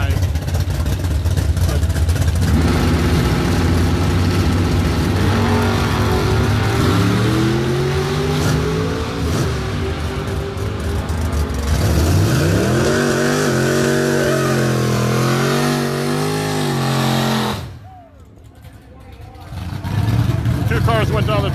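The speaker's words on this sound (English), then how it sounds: "Two cars went down the track." Tri-Five era cars at a drag racing event roar down the strip, engines revving with rising pitch sweeps through the gears, loud and close, then briefly dropping away before another engine swells back in.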